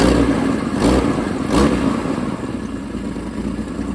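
A Yamaha XJ motorcycle engine idling and revving up to test throttle response, a steady mid-pitched engine drone with two quick blips of throttle early on, heard close with no talk.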